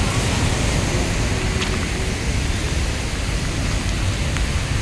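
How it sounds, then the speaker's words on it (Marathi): Heavy monsoon rain pours down over Thane city in July as a steady, loud, unbroken hiss that fills the scene without pause. "आपण पाहू शकता ठाण्यामधली ही मुसळधार पाऊस पडत आहे"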